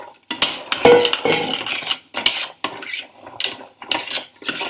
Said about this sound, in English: take that off the heat, stir in these walnuts